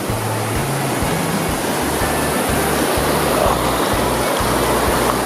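A waterfall at Tumbler Ridge pours with a loud, constant broadband rush, close and steady, with a low rhythmic thumping underneath.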